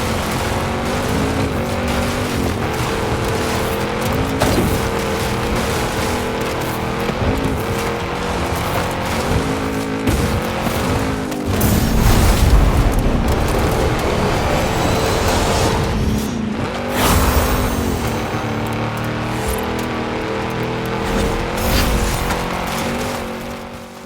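Lamborghini Murcielago racing in a video game, its engine droning steadily with rising and falling revs, surges of acceleration and occasional tire squeal, continuous and fairly loud throughout.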